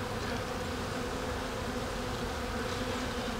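Honeybees buzz steadily at a beehive during autumn, a dense, continuous drone that stays loud and even throughout with no voices.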